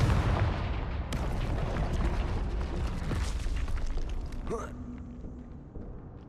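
Confringo fire spell explosion in the Hogwarts Legacy video game, a loud booming blast with crackling bursts and rumbling debris that trails off into a tonal magical whoosh, with a voice speaking over the game sounds.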